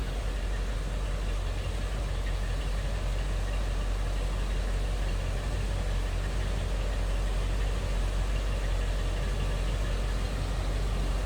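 A 1972 Cadillac Eldorado convertible idling, a steady low rumble with a smooth, even rhythm, heard close up and alone.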